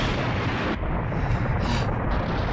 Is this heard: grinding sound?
no